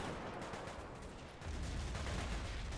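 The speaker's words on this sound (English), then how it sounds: "Some good K98 fire there is going to seal the deal" Rifle fire crackles in a busy Totaler Krieg mod battle of early war Soviet factory defense, dense overlapping gunshots from K98 rifles with a low rumbling swell in the second half and no talking.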